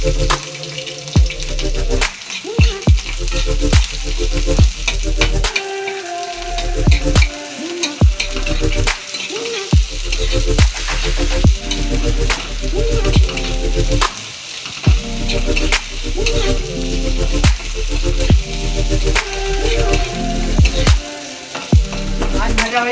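Dried red chillies and onion frying in a pan, a loud steady sizzle with repeated stirring scrapes and clatters, broken by short pauses and the splash of running tap water nearby.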